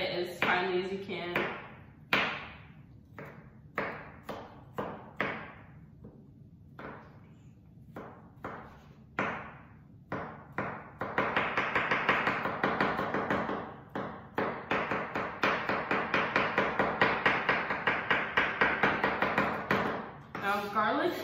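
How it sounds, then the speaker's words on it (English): Knife chopping a garlic clove into small pieces on a cutting board, a run of sharp taps that starts sparse and then speeds into rapid, steady strokes, with a voice talking over parts of it. "we have a clove of garlic, and we're just going to cut it into chunks"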